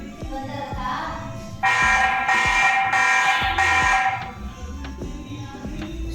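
A TP-Link VIGI C440 security camera alarm blares in a steady, loud electronic tone for a couple of seconds, then stops, over a background of light tapping and handling noise.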